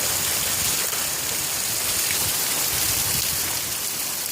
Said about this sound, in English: oh, y'all, there's the rain